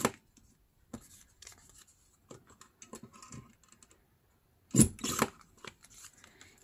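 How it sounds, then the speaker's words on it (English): A crocodile-style paper hole punch cutting holes in paper for a Halloween envelope, giving sharp crunching clicks and rustles, with a louder punch near the end, close by with quiet gaps between. "I'm gonna take my paper punch, this crocodile hole punch, and I'm gonna punch the holes here and here"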